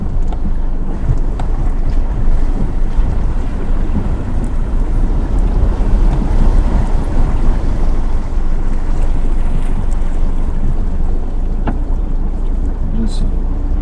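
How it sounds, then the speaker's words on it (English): A 4x4 with a 2-inch lift creeps slowly through a shallow water crossing about 3 inches deep at an off-road park in the Adelaide Hills, a steady low engine drone mixed with sloshing water and wind buffeting the microphone. "We got a water crossing."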